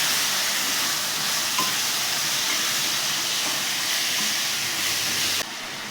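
Marinated chicken fries and is stirred in a hot pan, making a loud, steady sizzling hiss throughout with faint scraping, dropping slightly at the very end.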